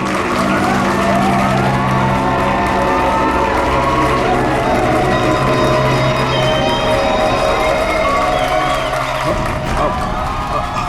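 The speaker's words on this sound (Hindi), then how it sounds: "तालियां!" Studio audience at a television show applauding and cheering continuously, a dense loud wash of clapping and crowd noise, with a voice and music running underneath.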